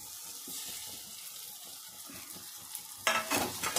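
Mashed potato fries with onion, cumin and other spices in a pan, giving a soft steady sizzle with faint stirring, then a louder burst of crackling and scraping near the end.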